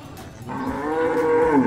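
A goat in a livestock pen gives one drawn-out, close bleat that rises and wavers over low background noise, with no talking.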